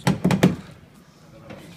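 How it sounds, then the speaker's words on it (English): A few quick mechanical clunks in a short burst, close by, as a Honda CR-V's central door locks engage, followed by quiet with a faint thud near the end. "Lock the car."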